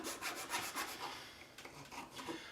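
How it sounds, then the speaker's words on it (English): A hand file rasps rhythmically across an aluminum tent stake, a quick series of close, gritty strokes repeating evenly with no talk. "File that baby up."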